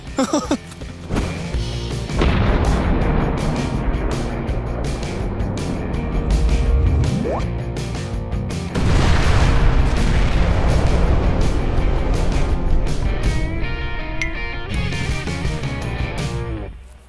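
A large outdoor explosion roars with a sudden boom and a long, rumbling blast that fills the air for many seconds, staying loud and dense before slowly tailing off.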